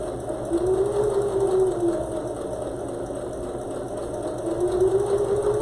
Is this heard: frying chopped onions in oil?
no